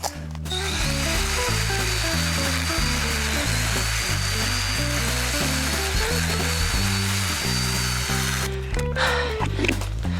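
A powered blade tool grinds steadily through a tree's branches, its pitch stepping up and down in a rapid, repeated pattern as it bites into wood, loud and close, with a brief burst of cracking near the end.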